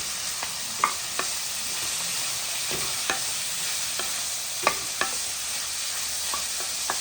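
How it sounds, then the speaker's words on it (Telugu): Onions and curry leaves fry in a pan for a chapati curry, a steady close sizzle running throughout while a spoon scrapes and stirs in irregular clinks and scrapes. "ఉల్లిపాయలు అన్నీ వేసుకొని కొంచెం ఎర్రగా ఏగాలండి ఉల్లిపాయలు కరివేపాకు కూడా వేసుకుంటున్నాను"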